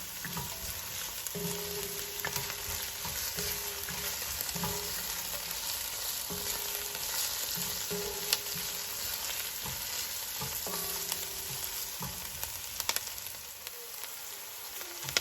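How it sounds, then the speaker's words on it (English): Keema curry ingredients with green chilies sauteing in a pan over medium-high heat, a steady close sizzle with brief scraping stirs at intervals and no talking. "So these ingredients have been sauteing for maybe a couple of minutes on medium-high heat."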